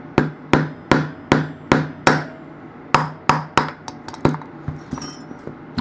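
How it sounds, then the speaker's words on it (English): A small hammer taps a rod in a knockout block to dislodge the feed of a 1948 Parker Vacumatic Golden Pearl fountain pen. About fourteen crisp, close metallic taps come at a steady rhythm, growing lighter toward the end. "use the appropriate size rod and our small hammer and see whether we can"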